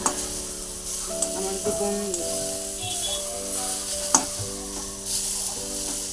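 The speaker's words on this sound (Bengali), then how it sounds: "বেগুন ভাজাটা বসাতে এসেছি" Eggplant frying in a pan on a home kitchen stove makes a low, steady sizzle with a few sharp clinks from stirring, under background music and a brief spoken voice.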